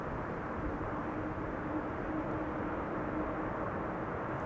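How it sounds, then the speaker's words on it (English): A wide-body Airbus A330-300 airliner arriving after a long flight, heard as a steady, distant roar of jet engines with a broadband rumble that holds constant throughout, with no speech. "An A330-300, 9 hours and 7 minutes it has flown to get here."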